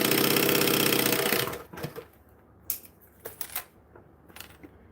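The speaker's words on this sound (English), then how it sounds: "I'm quilting my patriotic table runner." A sewing machine quilting a patriotic table runner runs in a loud, steady whir for about a second and a half, then stops, leaving scattered close clicks and taps.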